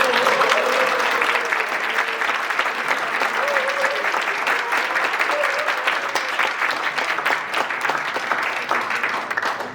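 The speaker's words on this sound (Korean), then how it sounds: "여러분의 뜨거운 박수 부탁드립니다" Audience applause at a rowing club's 60th anniversary ceremony, a steady, dense wash of clapping from a large crowd that carries on evenly for about ten seconds with no break.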